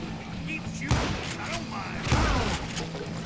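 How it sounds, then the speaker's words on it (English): Gunfire in Call of Juarez: Gunslinger, with two sharp, loud shot bursts about a second apart over a steady game background, and a voice talking faintly along with it. "Who's shooting me?"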